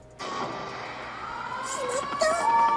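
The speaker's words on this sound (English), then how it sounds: "we hear a siren." A siren wails with rising and falling tones over steady traffic-like noise, fairly loud and continuous throughout.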